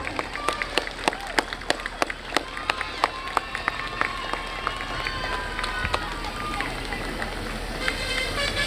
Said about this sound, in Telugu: so great round of applause